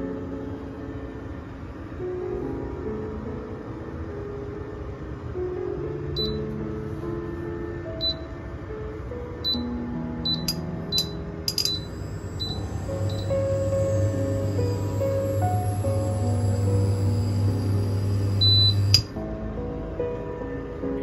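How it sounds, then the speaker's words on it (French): An induction or electric cooktop in a home kitchen gives a run of short, high electronic beeps, one per press as the heat level steps up or down, over a steady background hum that ends abruptly. "j'utilise le bip pour savoir à combien je monte ou je descends sur la"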